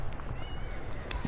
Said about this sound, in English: one of my cats is meowing like hell